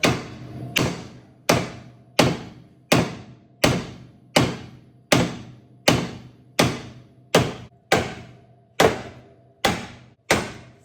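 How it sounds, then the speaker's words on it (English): Sharp metallic hammer strikes on a 426 Hemi engine from a 1970 Plymouth Hemicuda land about every 0.7 seconds in a steady rhythm, each hit ringing briefly before the next, loud and close with no talking. "then you hit this with a hammer"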